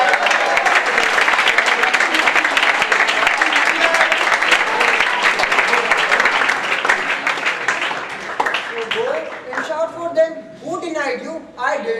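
Crowd applauding a speaker at a presentation-skills session, steady dense clapping for about eight seconds that thins out, with voices starting to speak over the fading claps.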